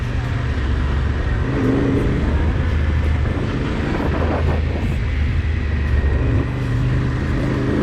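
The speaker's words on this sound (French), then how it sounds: "Encore les mecs en moto" Motorcycles on a mountain road during a long-distance ride produce a continuous engine drone that swells as they pass close by, with brief talk underneath.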